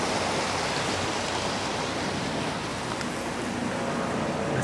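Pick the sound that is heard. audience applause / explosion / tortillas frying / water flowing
water flowing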